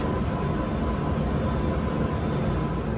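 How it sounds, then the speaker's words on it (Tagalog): A factory machine grinding paper gives a loud, continuous broadband roar that holds steady throughout, with no pauses or voices. "ginigiling yung papel"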